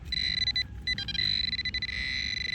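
A handheld metal detector sweeps over fresh black soil in a park and answers with a bright electronic beep, repeated pulsing tones with brief gaps, close and clear.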